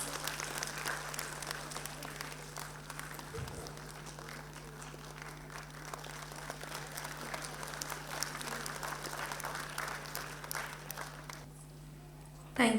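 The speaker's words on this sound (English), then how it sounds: "Let's have a round of applause." Sustained audience applause fills a school annual day function in a hall, steady and dense clapping from a large crowd lasting throughout, with a brief low thump partway and a louder burst at the very end.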